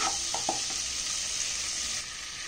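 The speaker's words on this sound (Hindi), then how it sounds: "इस पेस्ट को आप बटर, टर्मरिक और सॉल्ट वाले पेस्ट को थोड़ा सा अच्छे से मिक्स कर लें" A butter, turmeric and salt paste is stirred in a pan while making homemade popcorn, giving a steady soft sizzle with a few faint scraping stirs near the start, close and fairly quiet.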